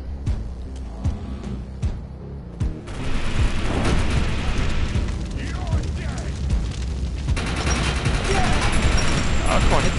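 Heavy gunfire and booming explosions in the PS4 shooter Defiance 2050, sparse loud shots at first, then a dense continuous barrage of rapid fire and blasts for most of the stretch.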